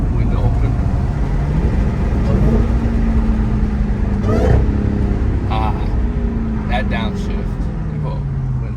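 A Dodge Charger Hellcat accelerates out of slow traffic, its engine note climbing in a steady pull beneath road and wind noise, with someone talking throughout.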